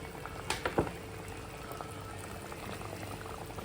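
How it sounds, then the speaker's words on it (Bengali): Hilsa fish curry bubbling in a pan while a spoonful of mustard oil is poured in with slit green chillies, a few sharp splashes early on, then a steady soft simmer alone. "এখন উপর থেকে দিয়ে দেব 2টো কাঁচা লঙ্কা চেরা এবং আবারও 1 স্পুনের মতো সরষের তেল"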